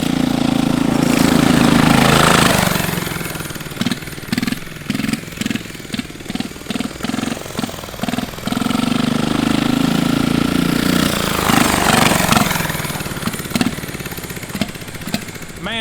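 A turbo diesel racing go-kart engine runs loud and close, idling with a rough, choppy pulse, then revving up twice into a fuller roar before settling back.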